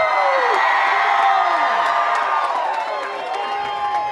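A large crowd cheers and whoops in celebration at an AMSOIL Champ Off-Road truck race at Crandon, loud continuous roaring and shouting that dips slightly toward the end.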